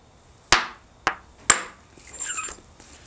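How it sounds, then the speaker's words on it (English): Hammer stone striking obsidian while flintknapping an arrowhead: three sharp, loud cracks about half a second apart, followed by softer scraping and clinking of flakes. "I'm going to hit it pretty hard right down there and have flakes come off."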